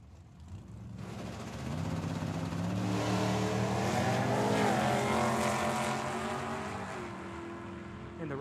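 A Ford Mustang and a 1927 Roadster launching side by side at a Tucson drag strip: engines rise sharply after a quiet second into a loud, climbing roar, peak midway, then ease off.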